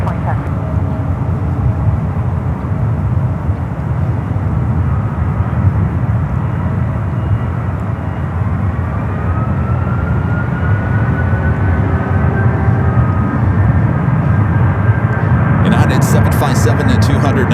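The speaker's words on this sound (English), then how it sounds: "777 at 200, now rolling down to 28 right" A Boeing 777 rolls down runway 28 right at San Francisco airport for takeoff, a continuous loud jet engine roar with a slowly rising whine, heard from a moderate distance.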